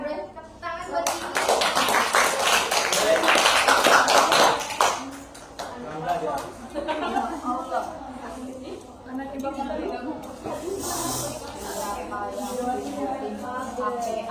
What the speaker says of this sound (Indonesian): ini kita tepuk tangan buat ini.